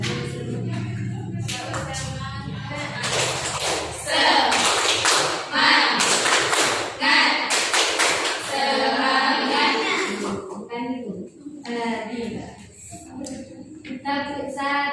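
A school class in a grade 10 religious-studies lesson claps in loud rhythmic bursts for a cheer, broken by short pauses and quieter spells, with young voices chanting and talking between the claps.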